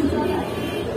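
Pigeons at a pigeon market, among the pairs kept for sale, give off a soft, low cooing that fills a brief moment close to the microphone, with no talk over it.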